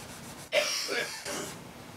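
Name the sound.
cloth wiping dirt off acoustic guitar strings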